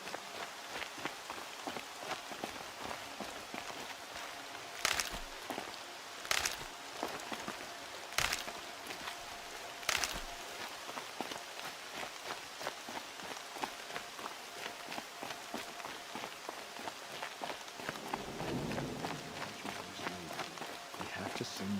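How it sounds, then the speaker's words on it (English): Steady rain falling outdoors in the game Horizon Zero Dawn, a soft continuous patter under footsteps, with a few sharper clicks or impacts at intervals and a low rumble near the end. "More rain. My boots will get damp."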